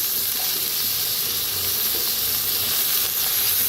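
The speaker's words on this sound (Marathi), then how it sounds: "त्याला आपण मिक्स करून भाजूया" Eggplant and potatoes pan-roast in hot oil, giving a steady, close, even sizzle with a hissing texture that holds without a break.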